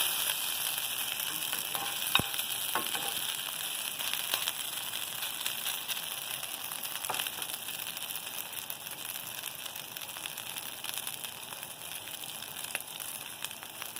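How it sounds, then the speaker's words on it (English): A steady, close sizzle of haggis frying in a pan, with faint crackles and an occasional scrape, no voices. "Here's my bit of haggis sizzling away."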